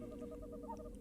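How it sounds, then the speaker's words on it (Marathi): Owls making strange calls from roadside trees at night, a series of soft, evenly spaced hoots repeating through the brief moment, faint and alone. "मध्येच रस्त्याच्या कडेला असणाऱ्या झाडांवरून घुबडं विचित्र आवाज करत होती"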